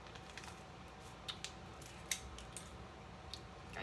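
Quiet, close snips of scissors come in a few separate clicks against a soft hiss of room noise.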